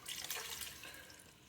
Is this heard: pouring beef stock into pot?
yes